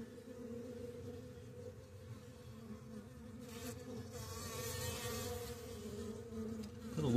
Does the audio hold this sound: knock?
no